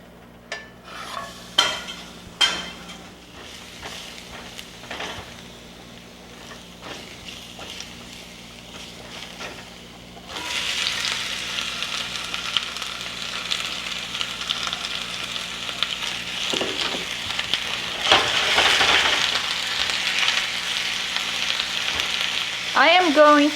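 Chopped onion fries in about two tablespoons of oil in a pan, with a broad steady sizzle that starts after some quiet clinks of utensils and swells louder toward the end, with occasional stirring scrapes.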